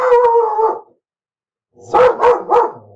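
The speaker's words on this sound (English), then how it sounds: "so Luna saw a dog" A dog barks: a sustained howling bark, then after a second of silence three quick, loud, close barks in a row.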